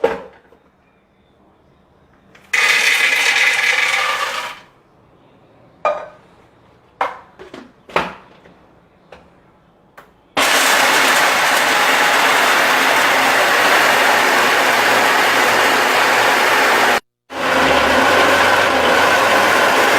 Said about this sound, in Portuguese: botamos no liquidificador, né?